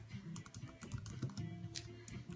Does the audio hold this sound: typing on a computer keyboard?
yes